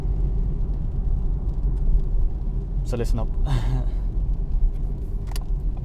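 A low, steady engine and road rumble fills the inside of a car driving in the rain at night, running continuously beneath a person talking close by.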